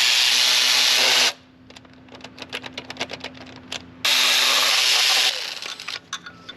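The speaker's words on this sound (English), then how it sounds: "Now let's remove all of our 10mm valve cover bolts." A power tool, likely an impact driver or ratchet, backs out 10mm valve cover bolts on a Ford 3.5L EcoBoost engine, with two long loud bursts separated by a stretch of quieter clicking and ratcheting taps, close up, no talk.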